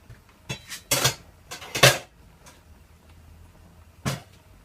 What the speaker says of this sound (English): So now I'm gonna remove my pot cover.